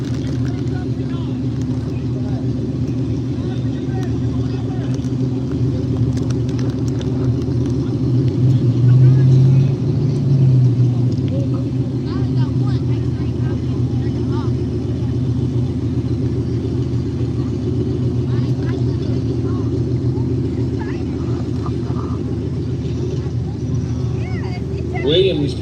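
A Mustang drag car rolls up to the start line at an Arm Drop Revival street race in Hager Hill, Kentucky, its engine a steady low rumble that swells slightly midway, with people talking over it.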